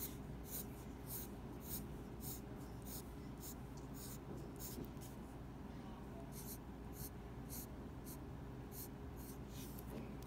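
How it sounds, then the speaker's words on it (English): Pencil or marker drawing overlapping cloud shapes on paper, with steady rhythmic scratchy strokes repeating close and moderately quiet over a low room hum. "So I'm going to draw clouds that are overlapping."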